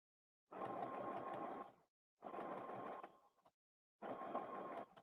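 Sewing machine batch sewing quilt memory blocks, running in three steady bursts of about a second each, separated by short pauses, close and clear with no talking.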